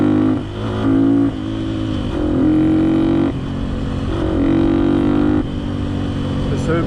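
A Honda XLR125R fitted with a PZ27 carburettor and foam air filter revs hard in repeated bursts, its small engine giving a loud, buzzing high-pitched whine that rises and drops with each throttle blip.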